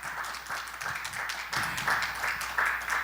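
Audience applause welcoming guests onto a stock market panel discussion, a steady, moderately distant patter of many hands clapping throughout, fairly soft and even.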